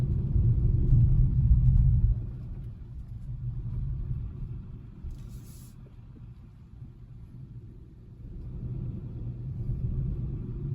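Low, steady engine rumble of a car on a night drive through Jim Corbett National Park at about 3 a.m., heavier at the start, easing in the middle and building again, with no one talking.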